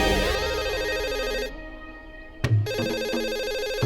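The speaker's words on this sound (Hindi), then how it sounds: "फोन उठाओ ना।" A shop telephone rings loudly with a repeating electronic ringtone, cut off in a silent pause and then starting again after a short clunk.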